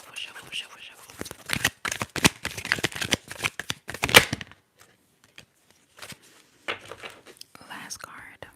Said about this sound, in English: Let me shuffle, shuffle, shuffle, shuffle,